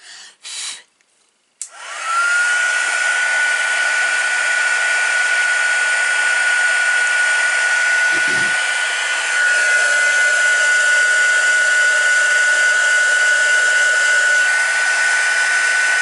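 A loud electric crafting heat tool used for card making switches on after a few brief clicks and runs as a steady, continuous whirring blast, briefly dipping and resuming partway through.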